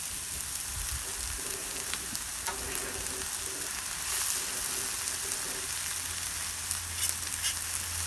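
Portabella mushroom, red onion, cabbage and scallion sizzle on a 36-inch Blackstone griddle in a stir fry, giving a constant crackling hiss with scattered pops and a low hum partway through, close up and without talk.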